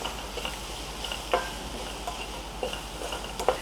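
Fenugreek leaves fry in a pan for a potato fry, with a low, constant sizzle. Scattered stirring scrapes and clicks sound close by, and no one speaks.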